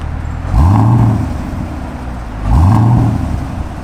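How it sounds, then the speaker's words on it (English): A Honda Civic Type R in Rapid Blue revs twice nearby, each blip rising sharply and settling back to a steady idle, loud and alone without talk. "Rev it real quick."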